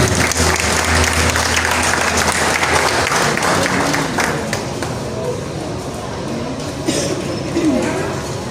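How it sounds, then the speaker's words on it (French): An audience applauds graduates of a modern art school at a graduation ceremony, loud continuous clapping that holds steady throughout, with faint voices mixed in. "je vous prie de les applaudir"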